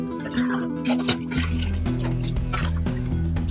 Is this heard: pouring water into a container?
yes